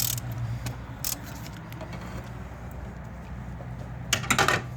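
Engine mount bolts on a Mazda Tribute loosened with a ratchet, giving a few sharp metallic clicks and clanks over a low steady hum, with a brief flurry of clicking near the end.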